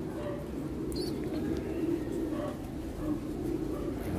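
Soft, low cooing from caged racing pigeons close by, steady and continuous, with faint talk and a brief chirp.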